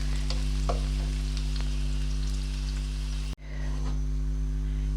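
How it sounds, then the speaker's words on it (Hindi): Onion and white cumin fry in a pan for Lahori murgh chanay, a steady close sizzle with a low background hum, briefly cut off near the end before resuming. "मैं ये ज़रा फ्राई कर लूँ, इसमें मैं सिर्फ ये थोड़ा सा सफ़ेद ज़ीरा डालूँगी"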